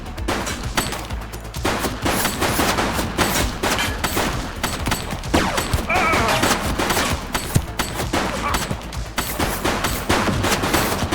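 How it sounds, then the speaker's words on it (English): Gunfire in the video game The Precinct, dense bursts of shots and rapid automatic fire crackling loud and close almost without pause, with shouted voices mixed in. "Shots fired!"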